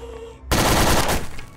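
Rapid burst of nail gun fire in the game Garry's Mod, loud and close, a dense rattling volley lasting about a second after a brief quiet lead-in.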